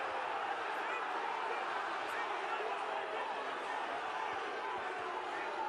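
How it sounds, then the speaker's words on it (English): A rugby crowd at a Leeds versus London Welsh Championship semi-final bays for blood, a steady, distant, fairly faint roar that holds without pause. "Crowd baying for blood and also wanting the referee to respond"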